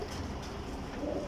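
Young flying pigeons in a loft in Jhelum give soft, low cooing, faint and steady, alone without talk.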